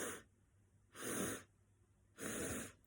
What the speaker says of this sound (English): So it's 3 full sniffs in.